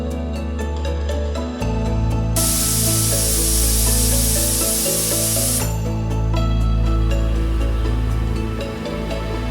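A gas pressure cooker of mutton kosha lets off its whistle in a loud, sustained hiss of venting steam. The burst swells abruptly and holds for several seconds over a steady low burner rumble, with no talk.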